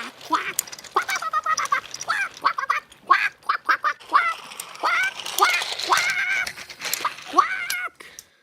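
Cartoon duck character voiced with a rapid string of quacks, repeated many times in bursts; the quacking is a voice imitating a duck, loud and close, with no other talk.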